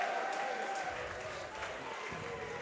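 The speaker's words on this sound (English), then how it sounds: "let's give it a round of applause one more time for the DC Destroyers" At a team boxing event between the DC Destroyers and the Boston Butchers, an audience claps in a steady wash of applause, moderately distant, with voices mixed in.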